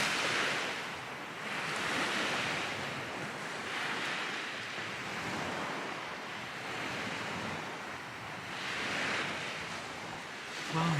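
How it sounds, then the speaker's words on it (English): Wind blowing hard across a lakeshore in winter at Lake Chelan, a continuous rushing roar that swells and eases in slow gusts, loud and steady with no voices. "The wind's really picking up"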